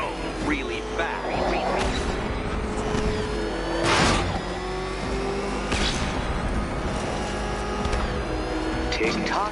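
The Batmobile's engine in Batman: Arkham Knight drones and surges under steady game dialogue, with rumbling low revs, whooshing bursts and clattering mechanical effects running throughout.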